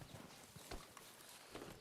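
A horse in a barn in the Red Dead Redemption 2 video game, its hooves clopping softly in a few uneven steps, faint and close, with no voices.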